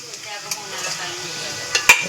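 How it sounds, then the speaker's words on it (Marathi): Oil goes into a hot pan for tempering veg Manchurian, giving a soft sizzle with light stirring and a couple of sharp utensil clinks toward the end. "आता मंचुरियन भाजीला फोडणी यासाठी टाकतो तेल"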